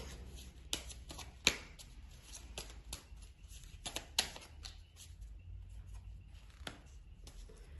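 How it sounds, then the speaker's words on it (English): A mini Star Seeds oracle card deck shuffled by hand, with quiet riffling and snapping of cards, several sharper slaps spaced irregularly over close, soft shuffling, with no voices. "let's pick a card from the mini Star Seeds deck"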